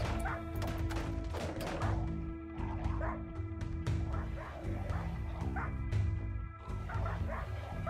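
Several dogs, including a Labrador, bark loudly and continuously in the Rimworld Alpha 17 video game, with overlapping yips and whimpers over a busy background.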